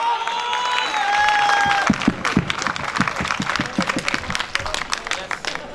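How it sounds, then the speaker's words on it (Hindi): A seminar audience breaks into applause, opening under background voices and tones before a burst of loud, rhythmic clapping that runs on to the end. "जोरदार तालियां दोस्तों"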